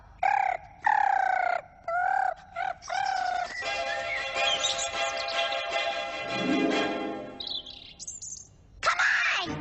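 A voice imitates bird calls in a Sonic Boom cartoon scene, with a series of short chicken-like clucks and chirps followed by a longer, sustained warbling call, loud and close.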